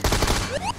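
Rapid bursts of automatic gunfire in a shooter video game, loud and close, then a rising synthetic whine that sweeps upward as the shots end.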